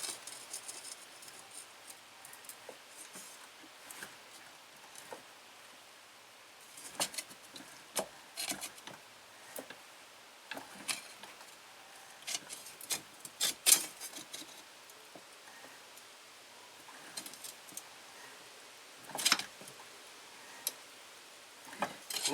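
Bending 16 gauge sheet metal by hand without a vise gives scattered sharp metallic clicks and creaks, irregular and close by, separated by quiet stretches with a faint background hiss.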